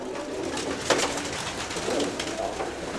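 Pigeons cooing in a loft, soft and continuous, with a few sharp rustles and a brief flutter near the start over a steady background hiss.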